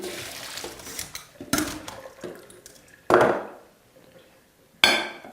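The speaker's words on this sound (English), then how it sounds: "now that they're hot, I'm going to drain them" Hot, freshly cooked soba noodles being drained: splashy bursts of gushing water, then a sudden loud pour and a final clattering rush, with light clanks between them.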